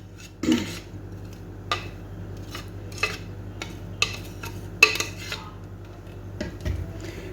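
Chopped onion goes into a cooking pot for kofta Dawood Pasha: a clatter of a utensil against the pot, followed by several sharp, spaced knocks and taps over a faint low hum.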